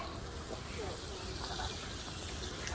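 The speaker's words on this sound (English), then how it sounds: "You just gotta keep rinsing." Water runs steadily with a close, hissing spray, like a tap rinsing off pepper spray, continuous and fairly loud throughout.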